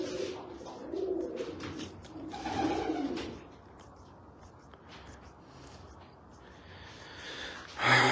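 Black pigeons of a prized Jordanian fancy breed give soft, throaty coos close by in the first few seconds, then fade to quieter rustling and background murmur.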